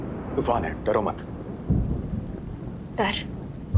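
A thunderstorm with steady rain and low rumbling thunder, with a few short voices breaking in over the continuous downpour.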